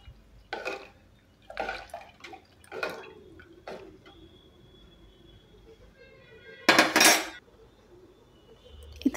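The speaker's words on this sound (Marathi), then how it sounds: "मिक्स करून घेऊया." Urad dal rice khichadi mixture being stirred in a pot with a spoon, giving a few separate clinks and scrapes of utensil against metal, with one louder burst of clatter near the end; no talking.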